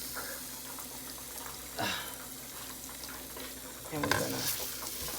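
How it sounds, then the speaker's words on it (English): Minced garlic sizzles softly in a pan for wing sauce, a quiet crackle broken by two louder scraping stirs, with no voices. "we're gonna just heat that garlic up a minute, because nobody wants raw garlic with their wings"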